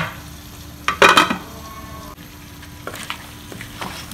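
Chicken kadai stirred and fried in a wok, a burst of loud scraping stir strokes and sizzle early on, then a steady low frying hiss with a few lighter clinks and stirs.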